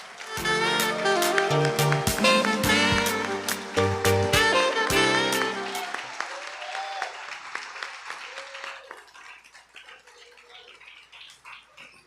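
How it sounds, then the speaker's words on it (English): A crowd at the Sandys Secondary Middle School leaving ceremony applauds its graduates. The clapping is loud at first and mixed with ringing tonal sounds, then fades to scattered claps over the last few seconds. "give these fantastic graduates a glowing round of applause for a job well done"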